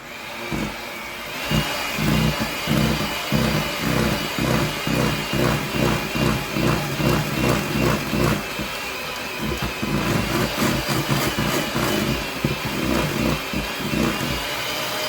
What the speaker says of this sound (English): we're going to go ahead and beat this on high speed until it's combined